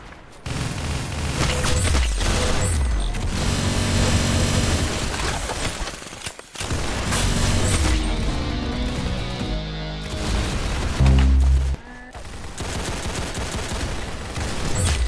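Loud, sustained bursts of gunfire, dense rapid shots in long volleys with brief gaps and a heavy boom near the end; no voices are heard.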